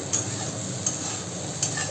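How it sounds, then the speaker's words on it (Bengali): Eggplant frying in oil for neem begun makes a soft, continuous hiss close by, with a few faint, evenly spaced ticks and no talking. "সুন্দর করে এটা ভাজা হোক নরম হোক"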